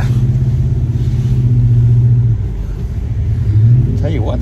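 Car engine revving while doing slow donuts in deep snow, traction control on, a loud low rumble that rises and falls close by as the tires churn.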